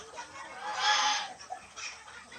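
Peruvidai chickens, large hens around three kilograms, clucking softly and fairly close, with a couple of short calls over a low farmyard background.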